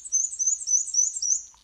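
A high, thin warbler song of rapid squeaky two-note phrases repeated steadily, like a squeaky wheel, clear and fairly close with no other sounds.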